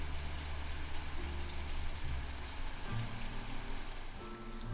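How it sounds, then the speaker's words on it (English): Steady rain falling outside in December, a soft continuous patter heard from indoors, with faint low rumbles and occasional thumps beneath it. "I'm loving this rain."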